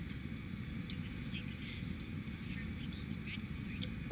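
An Airbus A320neo taxiing in the X-Plane flight simulator at Thessaloniki airport, a low, steady engine rumble droning evenly throughout with a faint whine above it.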